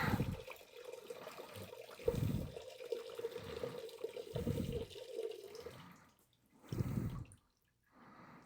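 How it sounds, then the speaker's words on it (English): Water drains and trickles close by in uneven surges with gurgling pauses, quiet overall, fading before a last short splash. "then I'll drain this out"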